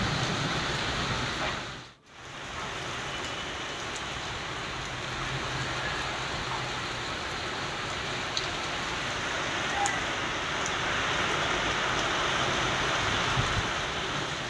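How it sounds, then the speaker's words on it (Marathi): Heavy unseasonal rain driven by stormy winds in Yeola, Nashik, a steady dense wash of falling water and gusts heard at a distance, continuous and moderately loud without voices. "वादळी वाऱ्यासह जोरदार पाऊस झालेला आहे"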